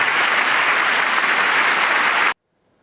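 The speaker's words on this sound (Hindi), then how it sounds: "तालियों की ये गड़गड़ाहट बता रही है" A large crowd at a political speech applauds steadily and loudly, a dense wash of clapping that cuts off abruptly into silence.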